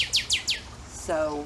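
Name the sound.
birds singing outdoors, blue jays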